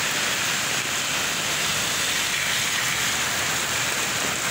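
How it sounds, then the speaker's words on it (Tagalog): Downpour of heavy rain fills the scene with a constant, broad hiss and patter, loud and unbroken throughout, with no voices over it. "Ang lakas ng ulan."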